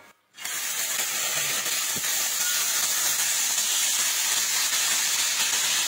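Chicken pieces seasoned with fish sauce and pepper hit a hot non-stick pan, bursting into a loud, steady, broadband sizzle that holds evenly to the end after a brief quiet start.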